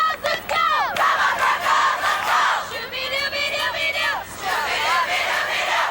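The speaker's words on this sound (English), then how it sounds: "And of course, the more traditional cheers." Cheerleaders and fans at a 1989 high school hockey tournament, a crowd yelling and chanting in loud rising and falling waves, continuous and close for several seconds.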